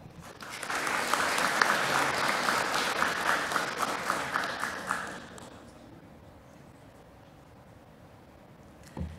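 Audience applause at a school board meeting, a dense round of clapping for about five seconds that fades into quiet room tone, with a single soft knock near the end.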